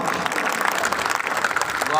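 An audience claps steadily in a dense, continuous wash of applause at a mushaira poetry gathering in Mumbra, Mumbai, fairly close and lively throughout.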